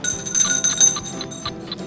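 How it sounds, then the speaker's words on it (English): A game show bell rings out bright and metallic in a studio, sounding in quick repeated strikes over nearly two seconds under busy background noise. "Ring that bell."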